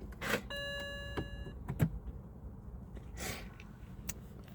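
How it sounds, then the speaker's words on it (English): A BMW's ignition switches on with a short electronic chime and a whirring motor hum of systems waking, followed by a few faint clicks and soft rustles in a quiet car interior. "If I turn my ignition on"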